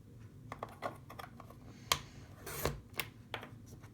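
A paper cutter slices a journal tag of paper card, giving a few soft scraping clicks and then a sharper blade swipe, quiet and close, amid faint handling noises.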